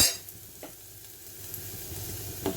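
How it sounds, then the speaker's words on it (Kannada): Ingredients for Andhra-style palak dal fry in a pan with a soft, steady sizzle. Faint scrapes of stirring come through now and then, close and fairly quiet. "ಫ್ರೈ ಆಗಲಿ ಚೆನ್ನಾಗೆ ಫ್ರೈ ಆಗಿದೆ"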